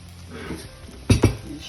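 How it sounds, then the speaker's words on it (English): A spoon stirring freshly grated nutmeg into green plantain porridge in a pot, two sharp clinks of utensil against the pot after a soft rustle, close and brief. "I'm stirring that in."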